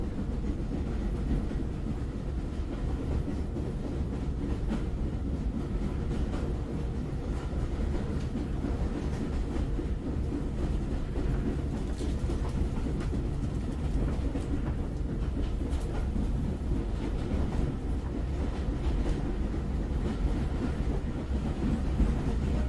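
A train rolls along continuously, a steady low rumble of rail cars with faint clickety-clack rhythm and occasional higher squeaks, holding an even loudness throughout with no voices.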